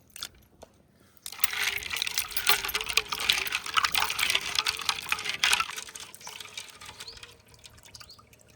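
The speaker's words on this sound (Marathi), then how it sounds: "हे पेट्या बी हे साफ करून घेतो कोमट पाण्यातून।" Crabs being washed in lukewarm water, a splashing, trickling swish that starts abruptly after a quiet moment and then fades, close and moderately loud, with no talking.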